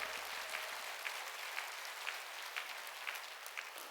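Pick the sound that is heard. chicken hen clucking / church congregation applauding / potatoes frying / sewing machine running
church congregation applauding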